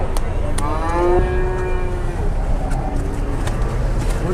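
Jumbo cattle low loudly while being loaded onto a truck, one long close moo with faint further bellows and clatter from the loading behind it.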